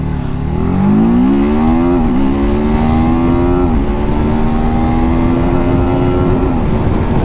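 A TVS Apache RTR 310 motorcycle engine revs hard at high RPM, its tone rising loud and close with brief dips between pulls, heard alone.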